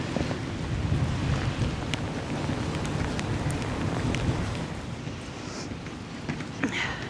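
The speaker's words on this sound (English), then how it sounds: "Rain's really coming on now." Heavy rain pours steadily during a walking tour through Edinburgh, a dense, continuous hiss mixed with gusty wind buffeting the microphone, with no clear voices.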